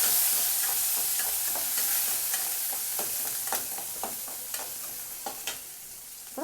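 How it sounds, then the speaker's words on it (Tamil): Garlic added to fennel seeds fries in a pan for a prawn masala, a steady crackling sizzle with occasional sharper pops and utensil scrapes, close and moderately loud, no talking. "சோம்பு நல்லா செவந்ததுக்கப்புறம் அதில் பூண்டை ஆட் பண்ணிக்கோங்க."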